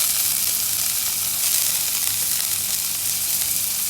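Curry leaves, green chilies and ginger sauté in hot oil with asafoetida, giving a steady, loud, continuous sizzle that holds evenly throughout with no voices.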